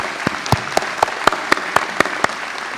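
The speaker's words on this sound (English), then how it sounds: "let's show our love with a round of applause for all the behind-the-scenes team" Audience applause at a 2014 School of Medicine commencement ceremony: loud, crisp claps falling in a steady, even rhythm, close and clear, with no talking over them.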